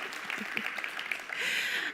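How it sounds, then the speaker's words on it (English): An audience at a conference talk claps in a brief, moderate round of applause that swells slightly near the end. "Applause, please."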